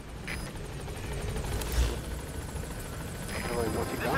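A helicopter arrives in the video game Metal Gear Solid V, a continuous low rotor rumble with a dense wash of engine noise that swells slightly toward the end, while someone talks over it.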